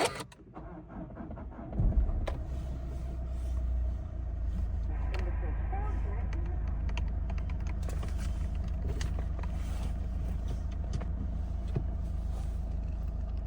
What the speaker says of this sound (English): I'll give the vehicle a quick start up here so you'll listen to how the engine sounds.